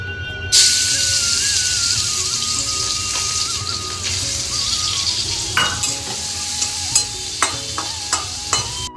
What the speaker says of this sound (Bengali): কড়াই গরম হয়ে গেছে, চিংড়ি মাছগুলো ভেজে নেবো।